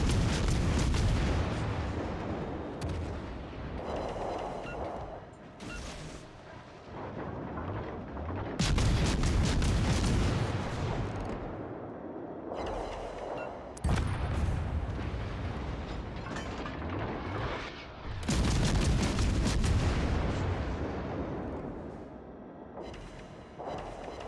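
Heavy naval guns firing in World of Warships: Legends: loud, booming salvos roughly every five seconds, each a deep blast followed by a rumbling tail under sustained low battle noise.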